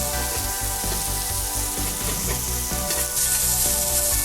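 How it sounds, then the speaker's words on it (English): A smash burger patty topped with cheese fries loudly on a griddle, with a dense, steady sizzle and crackle that continues without pause and grows slightly brighter toward the end. "You get all that crispy cheese coming off of there."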